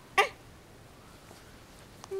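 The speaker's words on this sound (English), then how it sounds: "Oh, you got the hiccups." A baby hiccups once, a short sharp catch near the start, then quiet room tone follows.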